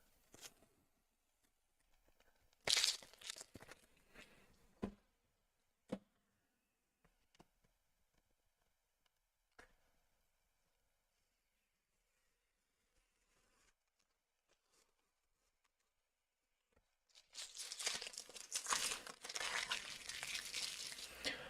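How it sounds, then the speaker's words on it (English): Masking tape is peeled off a pastel Yorkie pet portrait: faint scattered crinkles and a few sharp rips in a quiet room, then a longer, louder stretch of steady tearing at the end. "So I'm just going to untape this"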